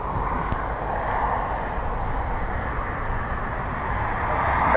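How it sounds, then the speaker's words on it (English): An ATR turboprop arriving at Dublin Airport on a windy day, inbound from Leeds Bradford. A steady, loud propeller and engine drone holds the whole time, swelling slightly toward the end, over rushing wind noise, with no talk. "ATR inbound from Leeds Bradford"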